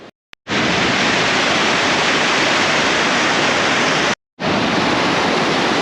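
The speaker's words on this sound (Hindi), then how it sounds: "ये पानी जो है ये बर्फ़ का पिघला हुआ पानी है" Stream of melted snow water rushing in Turtuk, Ladakh, a loud, steady broadband roar close by, briefly cut off twice before resuming.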